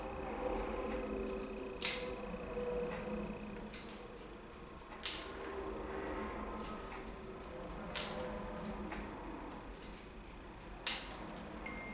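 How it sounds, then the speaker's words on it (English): Hairdressing shears cutting a man's short hair, with crisp snips recurring about every three seconds over a soft steady background, close and fairly quiet. "These shears are amazing, just so y'all know. Super slick and easy."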